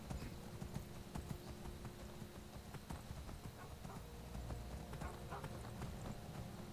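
A horse's hooves clip-clop steadily on the ground in the game Skyrim, a quiet, continuous rhythmic trotting beneath a low background hum.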